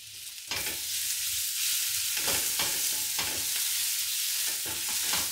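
Ginger and garlic fry in oil in a pan for chicken biryani, a continuous bright sizzle broken by repeated scraping strokes of a spoon, close and steady with no talking.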